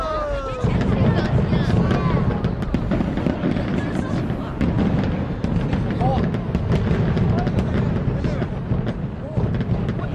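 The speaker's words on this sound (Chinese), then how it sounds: "哇，是烟花呀！" Fireworks bursting in a rapid crackling barrage of close pops and bangs over a steady rumble, with excited voices exclaiming throughout.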